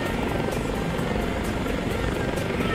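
A helicopter in Microsoft Flight Simulator X drones steadily with a fast rhythmic rotor chop over a constant engine whine, loud and unbroken.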